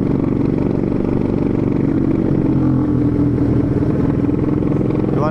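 A Honda Beat ESP 125cc motorcycle fitted with a round Empush EM1 exhaust revs loudly and close by, with a continuous throaty engine note that swells and eases.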